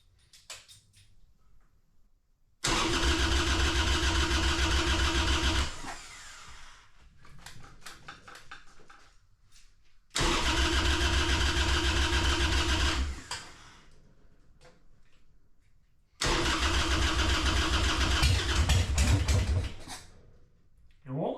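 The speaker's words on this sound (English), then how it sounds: "we'll see if it'll actually crank up for us" A Harley-Davidson Sportster motorcycle engine cranks in three loud, sustained bursts of a few seconds each, separated by quieter pauses with mechanical clicks and faint talk.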